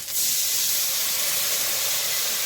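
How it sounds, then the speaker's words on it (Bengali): Water splashed into a pan of cumin and ginger paste cooked down with tomato, giving a loud, steady steaming hiss that rises sharply at the start and holds without letting up, with no talking. "ওই মশলাতে সামান্য জল দিলাম"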